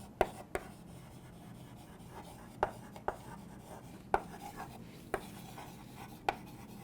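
Marker or pen writing notes on a board during a chemistry lesson on food preservatives, heard as a run of sharp taps and short strokes at irregular intervals over a low steady room hum, fairly close and with no talking.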